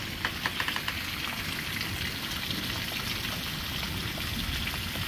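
Heavy rain pours steadily during a severe thunderstorm, a dense, continuous hiss of drops striking surfaces nearby, with no voices.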